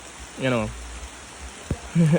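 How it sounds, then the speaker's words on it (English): Rain falls steadily outdoors in Annotto Bay, Jamaica, a soft continuous patter close by, with someone talking over it at moments. "it's raining."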